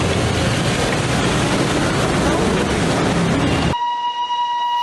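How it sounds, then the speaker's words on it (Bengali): Loud, rumbling noise of a Darjeeling Himalayan Railway steam locomotive, over 130 years old, fills most of the clip, then cuts off abruptly to a steady, sustained whistle-like tone. "একশো তিরিশ বছরেরও বেশি পুরনো বাষ্পচালিত লোকোমোটিভ চলাচল করে"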